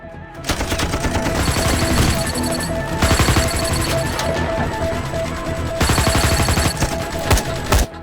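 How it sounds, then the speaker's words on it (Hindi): Gunfire in a movie scene, loud sustained bursts of rapid automatic shots and crashing impacts filling the whole stretch with only brief lulls, with faint voices underneath. "हम तो फायरिंग कर रहे हैं सर।"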